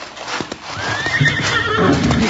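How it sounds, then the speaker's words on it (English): Old-time radio western sound effect: a horse gives a long, close neigh and whinny while hooves clip-clop beneath it, with a few sharp knocks at the start and the hoofbeats growing fuller toward the end. "Get the horses."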